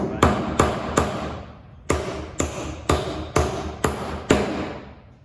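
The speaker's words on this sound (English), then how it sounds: "Gives you an idea of how you need to swing the hammer." Hammer blows striking a nail into wood, eight sharp knocks in an uneven rhythm with short pauses, close and loud.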